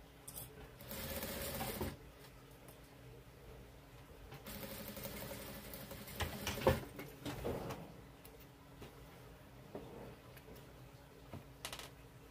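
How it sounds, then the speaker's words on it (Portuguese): A sewing machine stitches a fabric crossbody bag, its needle chattering in quick bursts that start and stop, close but fairly quiet, with light handling noises between runs. "Vou fazer aqui na máquina."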